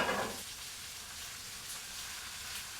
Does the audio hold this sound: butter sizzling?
yes